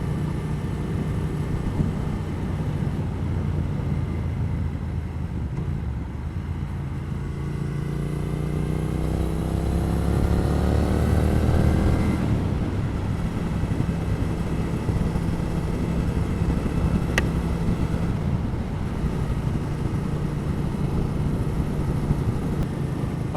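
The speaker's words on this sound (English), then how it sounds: "Really sounds a deep rumble with the straight through Vance and Hines pipes." A decatted Triumph Thruxton R motorcycle with straight-through Vance and Hines pipes rumbles deeply and steadily. The revs rise and swell midway, then settle back to a sustained low drone.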